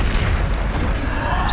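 Bombarda blasting spell from Hogwarts Legacy going off in a dark battle, a dense low rumbling boom that fills the whole moment, loud and close without a clear gap.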